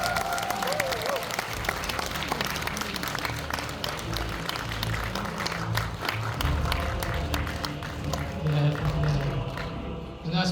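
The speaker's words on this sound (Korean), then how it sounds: "여러분 큰 박수로 환영해 주시기 바랍니다." Conference audience applauds to welcome a speaker to the stage, steady clapping throughout under background music and some voices in the hall.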